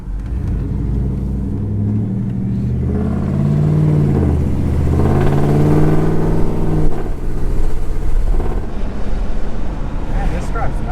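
An OBS-generation pickup truck with a swapped engine rumbles steadily from inside the cab while driving, swelling as it accelerates, with road and wind noise throughout.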